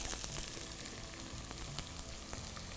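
Onions and dried red chillies frying in oil for a chicken liver and sorghum fry give a steady, even sizzle with faint crackles throughout, close by, with no talking.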